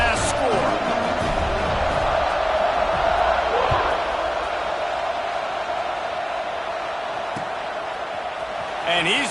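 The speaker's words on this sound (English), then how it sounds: "this crowd is buzzing after that last score" Crowd buzzing in a football stadium after a touchdown, waiting for the kickoff; a steady, dense roar fills the whole stretch with a few thumps, and a commentator talks over it.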